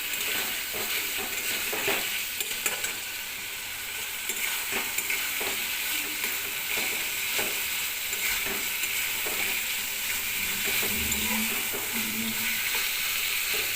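A dish with onion and spices frying in oil after the oil has separated, a steady sizzle with intermittent stirring clinks and scrapes, close and unbroken, no voices.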